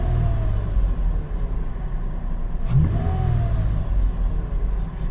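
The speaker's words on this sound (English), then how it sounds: "The only thing I can hear is the SMB cold air intake," A 5th gen Toyota 4Runner fitted with an SMB cold air intake gives a deep engine rumble with brief revving swells, heard from inside the cabin with the door shut and no voices.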